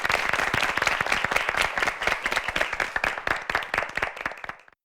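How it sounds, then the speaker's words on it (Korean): Audience applause at a high school debate competition welcoming the next debater, many close, crisp claps in a steady rhythm that thin out and fade to silence at the end. "박수로 맞이하겠습니다"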